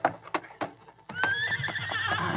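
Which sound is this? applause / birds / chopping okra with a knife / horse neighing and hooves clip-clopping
horse neighing and hooves clip-clopping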